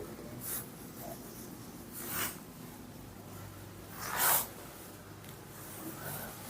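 A pen writes out the given values of a maths problem on a surface-area and volume question about a cube with a hemispherical cavity, giving faint scratchy strokes in short bursts against a quiet background, with no talk.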